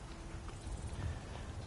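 Horse hooves clip-clop steadily in Skyrim, a continuous low patter of walking hoofbeats at moderate volume with no talk over them.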